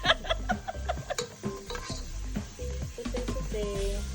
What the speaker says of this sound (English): You saute garlic.